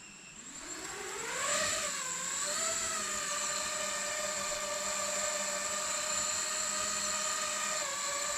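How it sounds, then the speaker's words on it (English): A 3D printed 5-inch FPV drone hovers close by. Its motors climb into a loud, buzzing whine and then hold a steady, slightly rough tone, with no talking. "I perform a steady hover while listening to motor behavior and watching for any odd movements."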